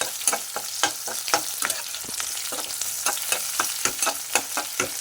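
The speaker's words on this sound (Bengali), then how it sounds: "এবার আমি একটা পেঁয়াজ কুচিয়ে রেখেছিলাম সেটা দিয়ে দিচ্ছি তেলের মধ্যে" Chopped onion fries in hot oil, a crackling sizzle broken by frequent rhythmic scrapes and taps as the spatula stirs the pan, close and fairly loud with no voices.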